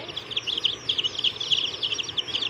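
Newly bought baby chicks peep continuously in a dense, overlapping chorus of high, rapid chirps, close by and fairly loud, with no talking.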